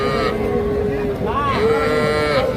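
Young bull calves moo at a rural cattle market in Kaharol, two drawn-out lowing calls rising and falling close by, over a constant murmur of crowd chatter and background noise.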